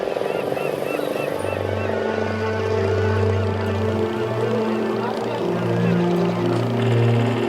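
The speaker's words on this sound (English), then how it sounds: "the noise from the diesel engines is horrendous" A diesel-engined tourist boat motors across a wetland lagoon, a loud, steady low drone with shifting tonal hum layered on top, close and continuous throughout.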